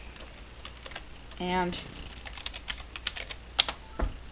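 A clicky computer keyboard is typed on in scattered, crisp keystrokes, close but fairly quiet, with a brief spoken word in the middle.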